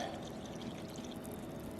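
Water pouring for sourdough sandwich bread, a soft continuous stream with light splashing into a bowl, close and fairly quiet, with no voices.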